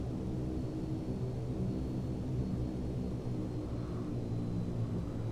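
A simulated aircraft taxis across a runway in a flight simulator on a UK tour from the Isle of Man to Birmingham, its engine a steady, unbroken drone throughout.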